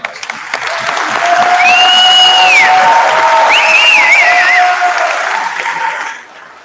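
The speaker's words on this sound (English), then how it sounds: "I ask you to join me in giving them a loud round of applause for their accomplishment" A graduation ceremony audience breaks into sustained applause that swells and holds for several seconds before tapering off, with a few whistles or cheers rising above the clapping.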